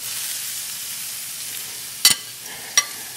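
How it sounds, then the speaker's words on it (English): Sausage sizzles and fries in an All-Clad pan with a steady hiss, with a couple of sharp clinks of a utensil against the pan, close by and alone. "sausage goes back in."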